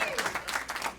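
Comedy club audience clapping for dog owners at a stand-up show, a short burst of scattered hand claps with some crowd murmur mixed in.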